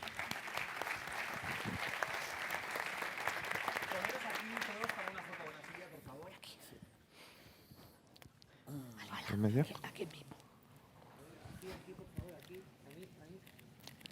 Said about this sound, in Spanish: Fuerte el aplauso para los tres.